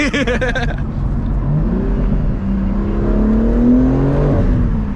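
A BMW G80 M3 Competition with a manual gearbox launching off the clutch, its engine revving hard and then pulling up through the rpm from inside the cabin, loud and continuous.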